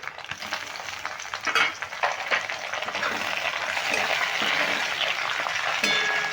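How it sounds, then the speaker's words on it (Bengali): Chopped tomato frying with onion in a pan: a continuous close sizzle with a few stirring scrapes, the frying growing denser and louder toward the end. "টমেটোটা দিয়েও একটু ভেজে নেব পেঁয়াজের সঙ্গে"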